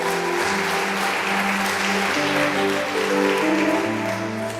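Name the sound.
applause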